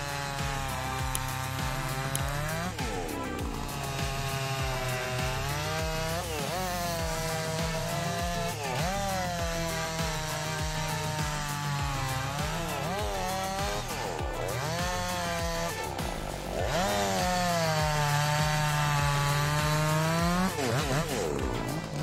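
A chainsaw cuts through big wood at a sawmill, its engine loud and close, revving and dipping in pitch repeatedly as the blade bites and frees over a long stretch.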